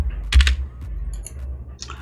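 A computer keyboard sounds while a website address is entered: a burst of close typing clatter, then a few sparse, sharp keystroke clicks over a quiet room.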